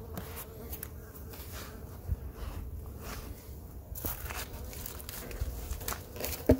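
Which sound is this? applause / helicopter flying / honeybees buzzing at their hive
honeybees buzzing at their hive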